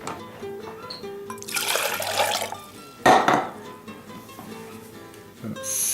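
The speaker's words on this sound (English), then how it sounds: "I'm going to put in 2 cups of water" Two cups of water splash and gurgle into a Jetboil Flash pot in cold snow, with a burst of sloshing midway and faint clinks of metal around it.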